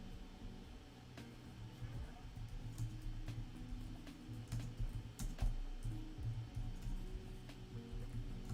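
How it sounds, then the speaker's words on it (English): Slow, irregular one-handed tapping on a computer keyboard, scattered clicks spread across the clip over a steady low background hum, fairly quiet and close. "I'm typing this out one-handed, so it's very slow."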